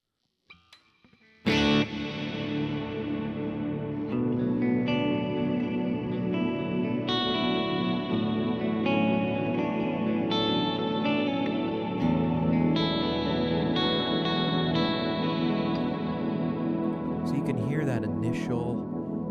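Electric guitar through a Kemper amp with a long-decay reverb, a sudden strummed chord blooming into sustained, washy tones that ring on and slowly fade, with a few more notes layered in.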